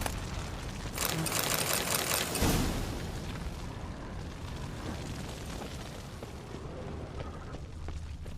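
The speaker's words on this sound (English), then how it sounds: "Need to burn down the nest." Burning a lizard nest in The Witcher 3: a roaring whoosh of fire bursts up loud and broad for a couple of seconds, then settles into a steady crackling, rumbling burn that carries on to the end.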